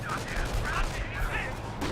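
Company of Heroes battle din with artillery and gunfire rolling together in a dense, steady rumble, scattered shots and blasts blurring into continuous noise for under two seconds.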